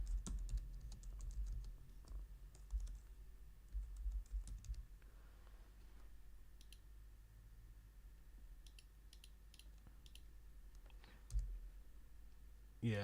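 Fingers tap a computer keyboard in uneven bursts of close, crisp clicks, with short pauses and a couple of heavier thumps between runs of keystrokes.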